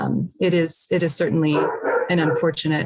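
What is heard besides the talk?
dog barking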